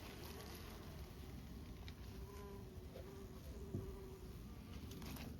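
Honeybees from a wild swarm buzz steadily up close, a dense, continuous hum with individual bees droning past now and then, quiet and without voices.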